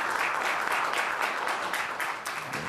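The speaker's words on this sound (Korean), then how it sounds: "박수 한번 치시죠." Audience applause at a Korean presidential election-victory press conference, a brief burst of steady, crisp clapping from a room of reporters and attendees that tapers slightly at the end.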